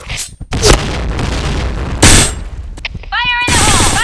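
Grenade blast in the video game Point Blank, a loud booming burst among rapid gunfire, followed by synthetic chirping game effects; voices shout over the action.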